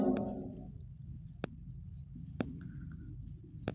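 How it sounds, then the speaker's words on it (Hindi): Chalk or marker tapping and scratching across a board as answer options are written out, a few sharp isolated taps spaced apart in a quiet room. "मैं ऑप्शंस लिखता हूं"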